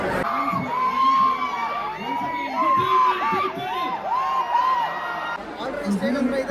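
A packed crowd at a concert cheers and shouts without pause, many voices rising and falling together at close range throughout.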